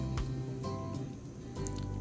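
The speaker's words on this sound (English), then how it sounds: "It looks like it's just about ready to put those pork chops in." Pork chops go into a pan of bubbling flour, giving a brief wet squish and soft sizzle with a few drip-like pops at the start and end, close and fairly quiet.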